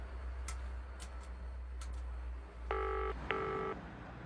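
A phone number is dialed on a telephone: a few faint clicks, then two close, clear touch-tone beeps in quick succession over a low background hum.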